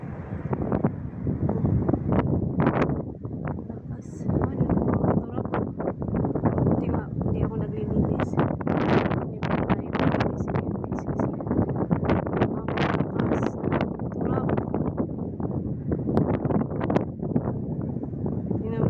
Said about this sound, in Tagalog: Yung marinig nyo yung tunog hangin po yan guys.